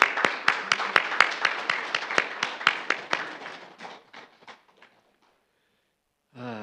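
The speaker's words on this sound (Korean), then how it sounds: "다시 한번 박수 한번 드리겠습니다" Church congregation applauding a member who had a pacemaker fitted days before, a dense burst of clapping that thins out and fades to silence over about five seconds, followed by a brief voice at the end.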